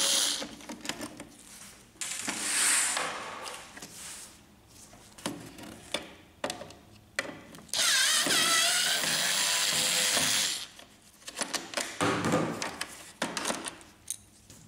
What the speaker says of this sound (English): To remove the control panel, remove the two screws.